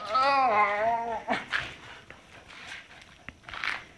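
A pit bull dog plays, giving a high whimpering whine at first, then snuffling, mouthing and chewing sounds close to the microphone.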